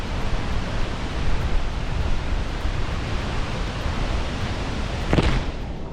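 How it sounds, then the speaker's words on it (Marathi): Kumbhe waterfall pours in a steady, dense roar of rushing water, a broad unbroken wash of noise heard from nearby with no voices. "सुंदर असा कुंभे वॉटरफॉल"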